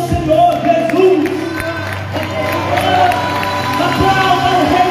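A church congregation stands and applauds during a worship service, a steady wash of clapping and crowd noise with cheering voices and music underneath.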